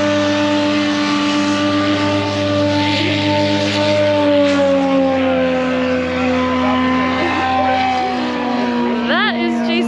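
A Rans STOL airplane with a fast four-cylinder Yamaha engine flies nearby, its steady droning engine tone holding throughout and rising in pitch near the end as it passes close.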